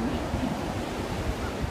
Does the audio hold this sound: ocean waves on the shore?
yes